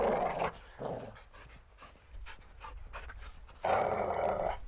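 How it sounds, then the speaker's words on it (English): A dog pants in the Modern Warfare 2 video game, with quick rhythmic breaths in bursts that grow louder toward the end, set against quiet ambience. "If he barks, shoot him and repo quickly."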